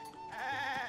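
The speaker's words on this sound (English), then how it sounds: "Hey, goats." Goats bleat in the Zelda: Tears of the Kingdom video game, a short, loud, wavering in-game bleat heard near a hot spring, standing alone without talk.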